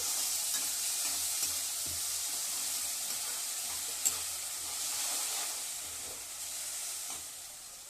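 Blended tomato paste fries in a pan while being stirred, giving a steady soft sizzle with intermittent scraping strokes of a spoon, close and fairly quiet.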